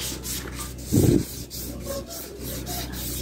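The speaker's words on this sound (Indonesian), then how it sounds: "kita amplas halus dulu pakai amplas 500 supaya rapi" Fine 500-grit sandpaper rubbing a Vespa scooter panel in a short, gentle rasping stroke that swells briefly, then soft scratchy friction continues faintly.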